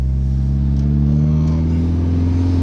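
A 1992 DSM car engine idles steadily up close, a smooth, even low rumble holding one pitch with no revving.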